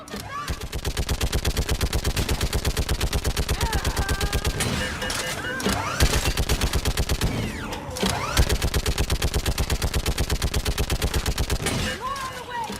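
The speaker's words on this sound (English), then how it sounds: "Get on that gun up there and do some damage!" A mounted machine gun in Mass Effect 3 hammers out long, rapid bursts of loud, evenly spaced shots, with brief pauses between runs and voices shouting over the fire.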